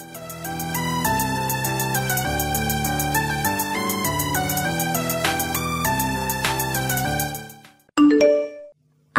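A bright notification bell chime rings out after a run of music, two or three quick ding-dong tones close and loud, standing alone at the end.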